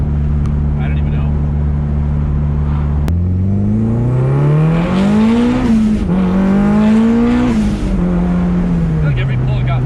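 A Mitsubishi Evo idles, then accelerates hard through its short gearing, its engine note climbing in repeated rising pulls with brief dips at each shift, loud and close from inside the car, while people talk faintly beneath it.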